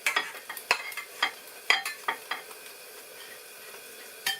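Potatoes crisping in a pan at an off-grid log cabin give a steady close sizzle, broken by several sharp utensil scrapes and clinks as they are stirred, with no voices.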